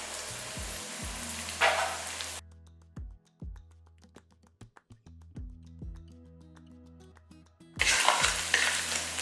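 Onions sauté in a pan, with a loud, close sizzle and frying crackle at the start and end and a quieter stretch in between.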